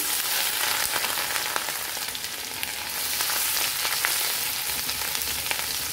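Grated ginger frying in hot oil with asafoetida (hing) over lowered heat, a steady bright sizzle with small crackles and pops, close and continuous, with no talk.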